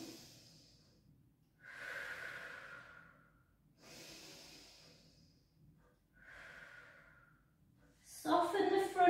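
Deep breathing during a Pilates exercise: four slow, drawn-out breaths, close and soft, each swelling and fading, followed by a louder burst at the end.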